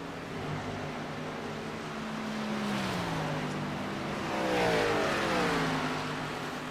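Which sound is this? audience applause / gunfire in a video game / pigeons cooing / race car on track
race car on track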